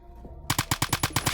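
G3A3 rifle fire in the video game Phantom Forces: a rapid string of about ten loud, evenly spaced shots following a brief quiet lead-in, with no talk over them.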